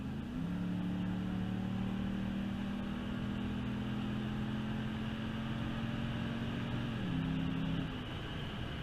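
A Hemi-powered Ram truck engine under full throttle on a highway, heard as a steady, low droning roar from inside the cab, its pitch shifting down near the end before holding steady.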